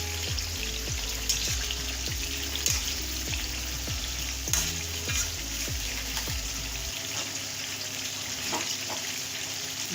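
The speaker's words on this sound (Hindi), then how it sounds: "अब मैं इनको फ्राई कर रही हूँ" Yogurt-and-spice marinated pieces, boiled first, fry over low heat in a pan, giving a steady close sizzle and crackle with faint pops, while a low rhythmic tapping repeats underneath for most of the stretch; no one speaks.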